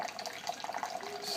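Second wort run-off during home beer brewing: water drains and trickles steadily into a vessel, a continuous splashing wash of liquid close by.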